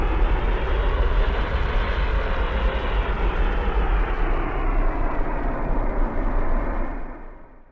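Airbus A380 jet engines in a flight simulator give a steady, loud broadband roar with a faint high whine, holding evenly before fading out at the end.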